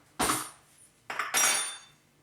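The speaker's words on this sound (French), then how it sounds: "on va prendre 3 cuillères à soupe de farine" A metal tablespoon scrapes and scoops into flour, giving two short, sharp rasping strokes separated by a pause, close and fairly clear with no talking.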